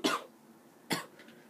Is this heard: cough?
yes